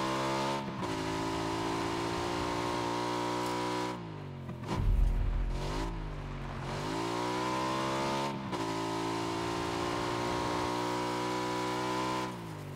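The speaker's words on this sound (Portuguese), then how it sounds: "Vou parar aqui e largar essa moto" A motorcycle engine in the PUBG video game drives steadily, holding a loud, constant drone with a brief dip and shifting pitch midway, then settling back to a steady run.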